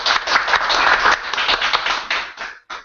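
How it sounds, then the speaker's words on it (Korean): An audience at a lecture event claps after a talk on marketing and jobs, brisk, lively clapping from a modest crowd that thins into a few scattered claps and stops. "박수 한번 부탁드릴게요"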